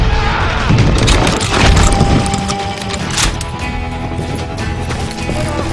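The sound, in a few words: shotgun blast in Call of Juarez Gunslinger video game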